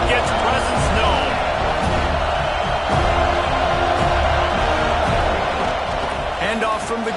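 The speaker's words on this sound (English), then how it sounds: "This crowd ready to make its presence known." A college football video game stadium crowd roars in a steady, dense wall of cheering, loud and continuous throughout, with a commentator talking over it.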